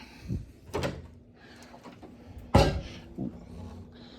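An interior door in a house, near the dining room area, handled in a few distinct knocks and clunks, with a sharp thump midway and a softer knock after, in a quiet room.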